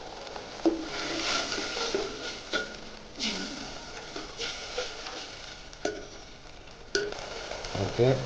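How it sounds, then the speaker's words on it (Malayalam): Spices for puli inji curry stirred in a pan, with repeated scraping and swishing strokes over a faint, steady sizzle, close but fairly quiet, broken by a few sharp knocks. "ഇളക്കി കൊടുക്കാം."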